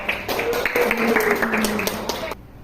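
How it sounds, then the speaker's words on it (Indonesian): Students in a biology classroom clap together, a brief burst of close, overlapping hand claps over voices and chatter, stopping abruptly near the end. "Pintar ya, tepuk tangan"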